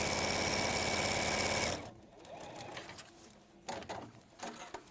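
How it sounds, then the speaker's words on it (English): A sewing machine stitches quilt fabric in a steady, fast, loud whir that stops abruptly partway through, giving way to quieter room noise and faint handling sounds. "you could, if you wanted to, start sewing along the bottom this time"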